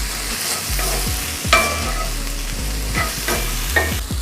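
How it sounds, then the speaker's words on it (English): Vegetables and fresh garlic sauté in a pot previously used to cook shrimp, with a steady close sizzle and the repeated scrape of a utensil stirring, no voices. "Now we're just gonna saute this."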